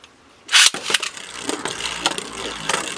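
A Beyblade Burst Dragoon top snaps off a white launcher with a sharp burst, then spins with a scratchy, rattling whir that stays steady for a few seconds.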